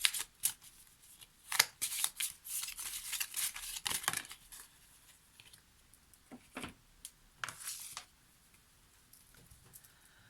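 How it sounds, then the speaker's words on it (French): Oracle cards being shuffled by hand for a tarot-style reading: a run of quick papery riffles and slaps, close and fairly soft, with short pauses between bursts and no talking. "on va prendre une carte de l'oracle des amoureux"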